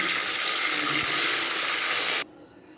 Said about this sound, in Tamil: புளி கரைச்சி வச்சுருக்க ஊற்றிக்கலாங்க